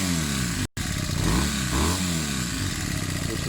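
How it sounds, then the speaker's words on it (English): A Honda CB250 Nighthawk built as a cafe racer revs hard, its raw, buzzy exhaust note rising and falling loudly and continuously, with one very brief cutout early on and no talking. "The exhaust note is rubbish."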